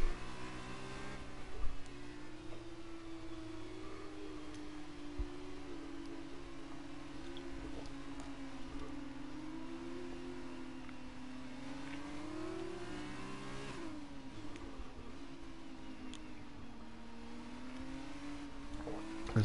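Formula 2 race car engines hum steadily on a formation lap, their pitch rising and falling in gentle waves as the cars weave and accelerate, with a sustained mid-range drone throughout at moderate distance.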